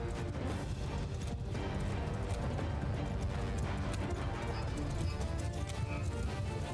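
Massed horses gallop in a battle in Mount & Blade II: Bannerlord, a dense, continuous drumming of hooves with clashing and crowd noise layered over it at a steady, busy level.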